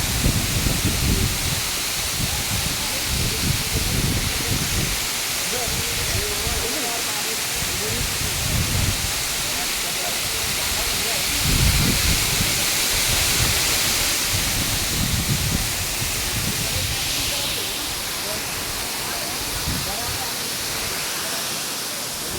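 Water spraying in a forest, a broad steady hiss and rush like a waterfall that continues for the whole stretch, with low rumbling gusts underneath.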